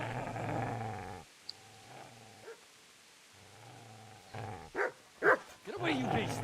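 A dog in the medieval video game Kingdom Come: Deliverance growls low and then gives a few short barks, set among spoken game dialogue.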